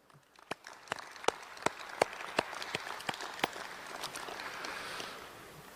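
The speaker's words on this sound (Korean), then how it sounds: "이 모든 분들께 뜨거운 감사의 박수 보내주시면 좋겠습니다." Audience at a political party convention applauding after a speech, distinct separate claps building into a thicker, distant patter of clapping that swells toward the end, fairly faint overall.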